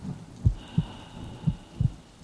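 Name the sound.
heartbeat sound effect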